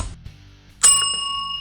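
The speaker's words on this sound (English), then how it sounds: "and ring the notification bell" A single bright notification ding rings out clearly and then fades over about a second, after a brief low rumble.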